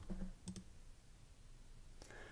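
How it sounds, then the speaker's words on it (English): Faint computer mouse clicks, a quick pair of sharp clicks, then another pair, then a softer single click, in a quiet room. "I'm going to click agree and sign up."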